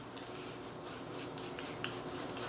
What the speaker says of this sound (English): I'm going to stir up the flour and sugar and cinnamon and get this pie going